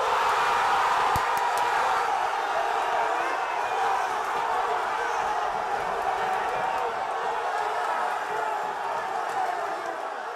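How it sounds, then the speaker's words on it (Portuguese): A packed football stadium crowd roars at a Santos goal during a Santos versus Corinthians Paulista championship semi-final, a dense, continuous wash of cheering from distance that holds steady throughout. "Explosão da torcida."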